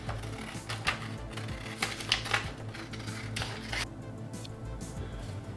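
Scissors cut an image out of paper at a craft table, the blades closing in a string of crisp snips with small rustles between them, close and clear with no one speaking.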